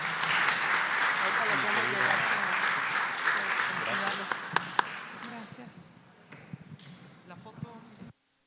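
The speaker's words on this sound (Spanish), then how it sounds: "Un fuerte aplauso para todos ellos" Applause from an audience at an academic panel session, a dense wash of many hands clapping that holds steady, then thins to scattered claps and fades out.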